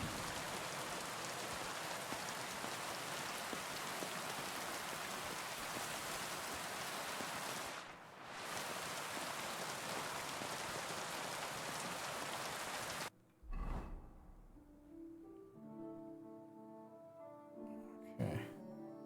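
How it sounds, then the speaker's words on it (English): Heavy thunderstorm rain in the video game Kingdom Come: Deliverance II, a loud dense hiss of downpour that drops out briefly, then gives way to quieter game ambience with a few sharp knocks. "I don't get to hear thunderstorms very often anymore, now that I live in the desert."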